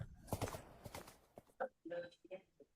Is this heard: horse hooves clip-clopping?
yes